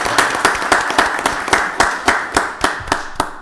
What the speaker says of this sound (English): Let's give a round of applause to our